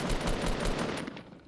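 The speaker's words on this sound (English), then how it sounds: "Here I hear gunshots." Rapid automatic gunfire in the Fortnite battle royale game, a dense loud burst of shots that tapers off toward the end.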